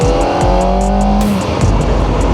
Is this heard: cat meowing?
no